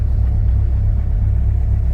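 A forged 3SGTE turbo engine in a Toyota MR2 idles roughly, a loud, close, lumpy low rumble that stays steady throughout with no voices over it.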